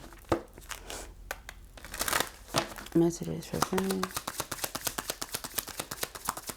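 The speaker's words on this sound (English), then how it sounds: "That was not a good shuffle." A deck of cards is shuffled during a card reading, giving a quick run of dry, crackling riffles in the second half, close by and mixed with a person talking.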